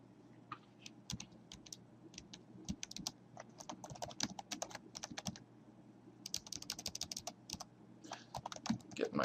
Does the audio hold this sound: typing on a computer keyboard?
yes